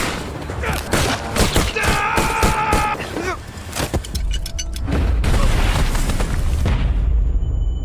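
Gunshots and sharp impacts crack in quick succession, then a heavy grenade explosion booms out and rumbles on loudly.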